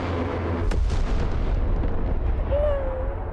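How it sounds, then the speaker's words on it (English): Bombs hitting in the military strategy game Broken Arrow during an airbase raid mission, a sharp blast followed by rolling low rumbles and booming explosions, loud and sustained. "Bombs away."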